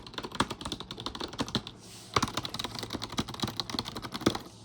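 Fingers type on a quiet ThinkPad-like membrane keyboard, a close run of soft rapid key taps with a short pause midway before the tapping resumes, no speech.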